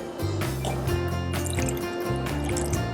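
Half a cup of water poured into a bowl while making flubber, a steady liquid fill with light dripping and trickling, running continuously against a busy background.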